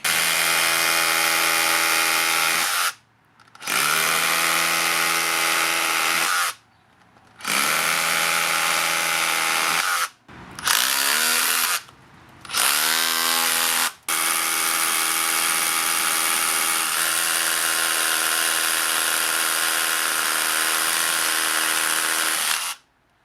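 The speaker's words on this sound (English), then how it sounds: "The Rotary Hammer Drill." Makita XGT 40V cordless rotary hammer drill runs in several long bursts separated by short pauses, a dense, loud buzzing hammer with a few quick stop-start triggers in the middle, close up and without voices.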